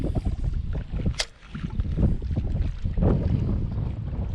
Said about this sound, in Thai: ลมก็แรงเกิน